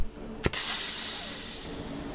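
Steaming hiss, a sharp click followed by a sudden loud, bright sizzle that holds steady, then slowly tapers away, alone and close.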